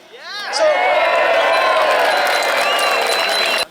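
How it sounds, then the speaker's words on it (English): An outdoor crowd at a Pedal on Parliament cycling rally cheers and whoops loudly after a quick swell, a sustained roar of voices with high shouts that holds for several seconds, then cuts off abruptly. "give yourselves a huge big cheer"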